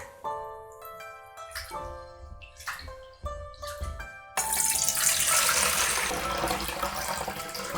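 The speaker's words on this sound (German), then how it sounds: "Rundkornreis gründlich waschen" Short-grain rice is washed thoroughly in water, first with intermittent splashes and dish clinks over a soft musical background, then a loud rushing stream of running water fills the second half.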